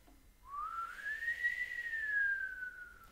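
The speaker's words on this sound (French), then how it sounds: "Le sifflet, c'est quoi pour toi ? Vas-y, refais-le, le premier." Whistling read from a written score: one long sustained tone that slides upward, holds, then drifts slowly down for almost three seconds, moderately close and alone.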